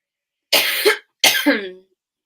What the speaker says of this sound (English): so I'm going to cough again